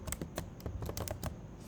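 Quiet computer keyboard typing while writing a pull request message in Xcode, heard as a short run of separate, irregular keystroke clicks close to the microphone.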